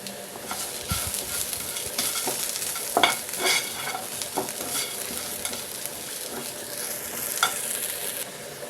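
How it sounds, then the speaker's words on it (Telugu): Spoon scraping and stirring chili powder through sizzling drumstick vegetables in a pan, with steady frying crackle and a few louder clinks, close and continuous. "కారం వేసి బాగా కలుపుకోవాలి"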